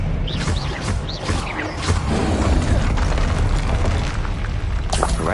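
A spell blast in the video game Hogwarts Legacy, a dense booming magical burst with a rumbling low end and crackling, shimmering effects layered over continuous game ambience, loud and sustained throughout.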